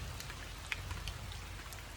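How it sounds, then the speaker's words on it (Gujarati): Steady rain falls in a dense, even patter that continues alone for two seconds. "અત્યારે વરસાદ ચાલુ છે"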